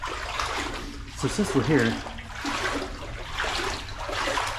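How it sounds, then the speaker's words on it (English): Loud water rushing steadily through an underground city tunnel, with a constant broad roar echoing throughout while someone speaks over it. "The water's loud."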